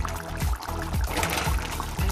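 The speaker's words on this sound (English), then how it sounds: "I'm gonna add a little bit more water in there" Water is poured into a pot of Jamaican stew kidney, a steady close pour and trickle with a few splashing pulses throughout.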